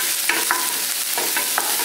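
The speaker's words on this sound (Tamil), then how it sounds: "வெங்காயத்தை போட்டுடலாம்." Chopped onions go into hot oil in a pan for Chettinad chicken curry, a constant bright sizzle with a few soft scraping stirs over it, close and fairly loud.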